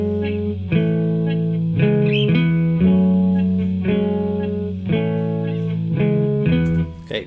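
Basic minor guitar chords from a plugin routed through a Waves guitar amp with effects, struck one after another in a steady rhythm, each held and ringing with distorted, reverberant tone.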